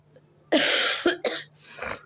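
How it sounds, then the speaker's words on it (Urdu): Three harsh coughs close to the microphone, the first long and rasping, followed by two shorter ones with brief pauses between. "مجھے بہت کھانسی ہو گئی ہے"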